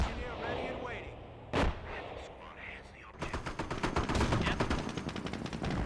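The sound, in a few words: booby trap triggered in Company of Heroes video game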